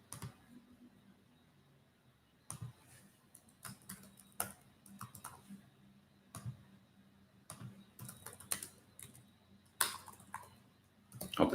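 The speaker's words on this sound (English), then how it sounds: "Hope the typing is not too loud." Someone types on a computer keyboard with quiet, irregular bursts of clicking keys, some close and crisp, separated by short pauses against a soft hum of the room.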